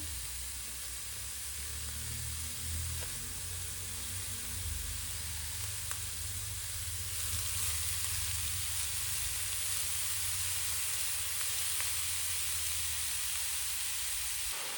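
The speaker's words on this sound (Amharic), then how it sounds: "መጥበሻው እና ዘይቱ ትንሽ ሞቅ ስላለልኝ አስገባዋለሁ ማለት ነው ካሮቱን" Carrots frying in hot oil in a pan give off a steady, even sizzle that holds for the whole stretch, with a low hum running underneath and no talking.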